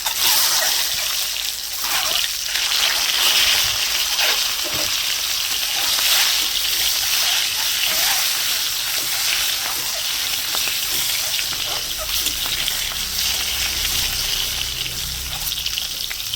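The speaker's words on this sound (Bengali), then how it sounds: "আর ডিমগুলোকে লাল করে ভেজে নেবো" Eggs seasoned with turmeric and salt fry in hot oil in a village kitchen wok, giving a steady, fairly loud crackling sizzle that runs unbroken for the whole stretch with no talking.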